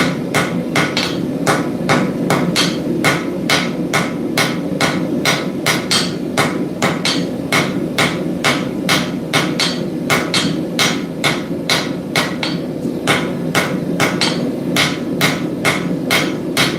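Steady, evenly spaced hammer blows ring out while a kiridashi knife is forged, around thirty sharp metallic strikes in a regular rhythm, loud and close over a constant low roar.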